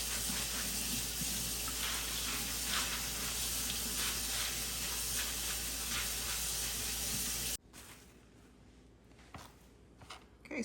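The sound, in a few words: washing pinto beans in a strainer under running water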